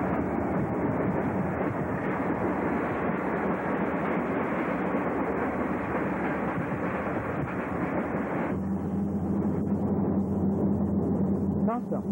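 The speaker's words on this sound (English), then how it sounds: "There are three CP engines and eight Leaf, Chessie, and V&O units on this train." Canadian Pacific freight train led by three CP engines rolling past trackside: a continuous loud rumbling roar with wind buffeting throughout, dropping to a lower steady engine hum toward the end.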